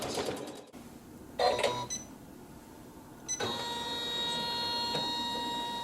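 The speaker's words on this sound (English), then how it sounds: "we're going to sew a tack down stitch" A sewing machine sews a tack-down stitch along a Dresden quilt block. Short close mechanical bursts come first, then the motor settles into a steady whining run.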